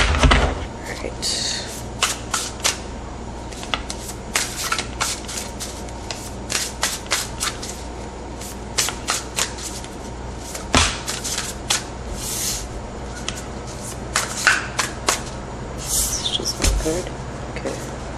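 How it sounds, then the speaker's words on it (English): Quick riffling and slapping of tarot cards being shuffled, a series of crisp flutters and snaps, close up, with occasional speech in between. "One more shuffle."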